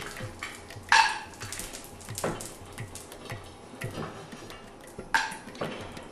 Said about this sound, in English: I put a little bit of butter in it, and then I'm going to add the cashew nut.